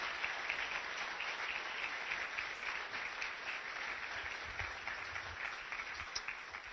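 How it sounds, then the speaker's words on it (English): An audience at a joint community town hall in Kaiserslautern applauds singers with steady, sustained clapping heard from a distance, a dense even wash of hands that continues throughout and eases slightly toward the end. "How about another round of applause for our singing sensations?"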